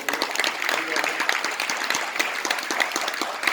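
A seminar audience at an RCM business event in Jind breaks into loud applause, a dense continuous patter of many hands that fills the room, with possible voices mixed underneath.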